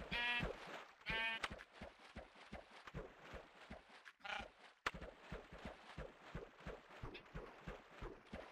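Sheep bleat in a video game, two clear bleats early on, then a softer run of rhythmic footstep-like thuds and brief bursts, faint overall, with no talk.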